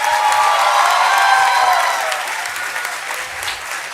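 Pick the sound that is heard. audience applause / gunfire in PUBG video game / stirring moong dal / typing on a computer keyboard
audience applause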